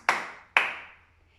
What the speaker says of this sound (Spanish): lo que vamos a hacer es aplaudir. Aplaudir con los pies y aplaudir con las manos.